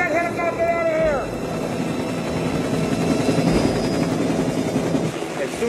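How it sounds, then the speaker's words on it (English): A helicopter hovering near a rooftop during a police pursuit in the film The Fugitive, a steady whirring rotor drone that runs beneath shouted dialogue the whole time. "you gotta get that helicopter out of here"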